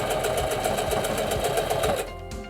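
A Singer denim sewing machine stitches over a thick denim hem seam with a fast, steady mechanical needle patter, loud and close, then slows and stops near the end.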